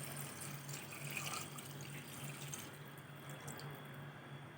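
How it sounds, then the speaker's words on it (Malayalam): Water poured into a pressure cooker while making chicken biryani, a steady continuous splashing stream like running tap water, close and even throughout with no talk. "5 കപ്പ് വെള്ളമാണ് ഞാൻ ഇതിലേക്ക് ആദ്യം ഒഴിച്ചു കൊടുക്കുന്നത്."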